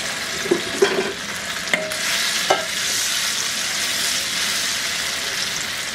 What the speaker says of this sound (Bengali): আমি চুলা একটা কড়াইয়ে 3 টেবিল চামচ তেল গরম করে এর মধ্যে এই ভেন্ডিগুলোকে দিয়ে আমি একটু ভেজে নিব।